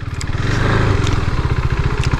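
A fully naked KTM Duke 200 motorcycle engine runs close by at a steady, throbbing idle with a slight rev, mechanical clatter audible, with no voices.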